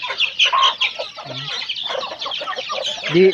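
Pet chickens cluck and chatter close by, a steady flock murmur with sharper individual clucks rising now and then.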